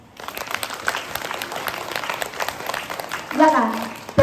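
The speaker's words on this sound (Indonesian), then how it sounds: "Tepuk tangan." An audience at a religious talk gives scattered, moderate applause, with a voice speaking over the clapping and a louder burst near the end.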